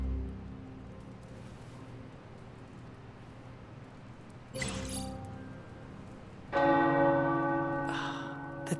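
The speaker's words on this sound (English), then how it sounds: "The tower bells are ringing." Tower church bells ring in the video game Marvel's Midnight Suns, starting with a quiet, fading hum, then two clear bell strikes, the second louder and resonating with a long ringing decay.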